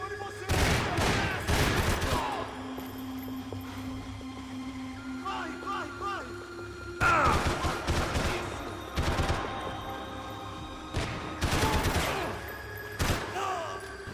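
Gunfire in Max Payne 3 comes in several loud bursts of rapid shots, broken by quieter stretches with a sustained tone and faint chirpy effects, and the shooting returns in clusters toward the end.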